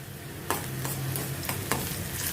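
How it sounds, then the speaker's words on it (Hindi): Ginger and shahi jeera sauté in a hot pan with a soft, steady sizzle, broken by a few quick spoon scrapes against the metal. "इन सभी को मैं सौते करती हूँ।"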